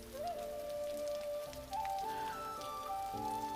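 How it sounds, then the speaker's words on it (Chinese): Steady rain hisses in the background beneath a soft, sustained melodic tone that shifts pitch a few times. "下雨了"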